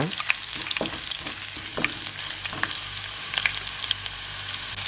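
Ginger and garlic sautéing in hot oil with tempered dals for a ridge gourd skin chutney, a steady close sizzle broken by scattered spatters and a few scraping stirs.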